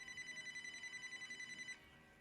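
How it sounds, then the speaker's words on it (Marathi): Telephone ringing with a steady warbling electronic trill, faint and continuous, stopping abruptly just before the end. "मोदी जी का फोन आ गया."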